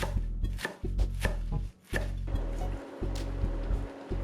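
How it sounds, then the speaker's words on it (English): A knife chops mustard greens roughly on a cutting board, giving steady, close, sharp thuds in an uneven rhythm with a short pause midway. "Next, I've got some mustard greens. I'm just gonna chop them roughly."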